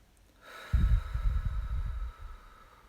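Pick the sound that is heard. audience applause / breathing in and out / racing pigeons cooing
breathing in and out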